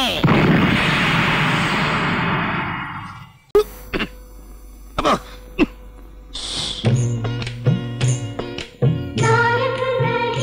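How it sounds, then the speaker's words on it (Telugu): A deep roaring blast swells and fades over a few seconds, then gives way to scattered sharp knocks and clatter with voices speaking. "బాంబు"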